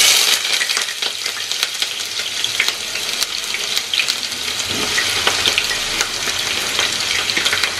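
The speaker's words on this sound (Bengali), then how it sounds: "এইবার আমি এই পেঁয়াজটাকে ভাজবো, পুরো পেঁয়াজটাই ভাজবো।" A whole batch of onion fries in a pan, giving a loud, dense, hissing sizzle close by, with scattered stirring clatter throughout and no voices.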